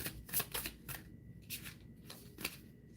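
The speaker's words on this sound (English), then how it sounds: "Let me do a quick shuffle." A deck of tarot cards is shuffled by hand at close range, giving a run of quick papery riffles and soft slaps in uneven bursts, with no talking.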